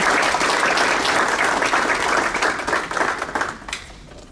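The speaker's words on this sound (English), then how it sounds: "Let's give another round of applause" An audience at a school district staff awards ceremony gives a round of applause, dense steady clapping from a crowd that thins and tapers off toward the end.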